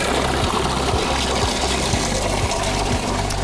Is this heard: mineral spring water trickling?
yes